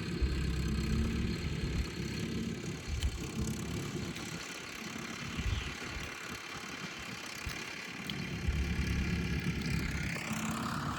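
A tractor engine runs steadily while levelling a field, a continuous mid-to-low drone that swells and eases slightly, heard from a moderate distance with no talk.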